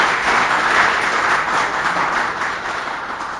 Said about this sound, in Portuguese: peço uma salva de palmas ao nosso palestrante.